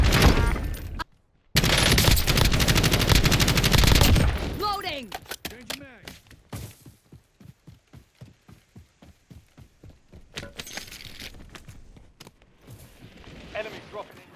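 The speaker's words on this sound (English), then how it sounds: "I'm just kind of shooting through the fence here" Rapid bursts of automatic gunfire from a Call of Duty match, shooting through a fence, loud and dense at first, then thinning into scattered sharp shots and clatter.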